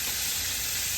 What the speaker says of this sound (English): Y'all hear that sizzle? That means it's good and hot.